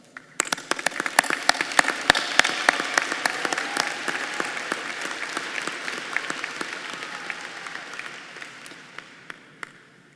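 Audience applause for graduating students at a spring diploma ceremony, a burst of many hands clapping that swells quickly, holds steady, and thins out into scattered claps toward the end.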